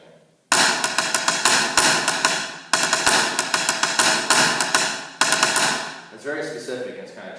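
A snare drum plays a specific, challenging rhythm with triplets as a string of sharp, close strokes and accented hits in short phrases, ending with softer taps under a brief voice.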